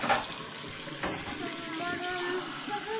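Water pours and splashes steadily into a pet's dish for a few seconds, close by, with small clinks and a faint voice underneath.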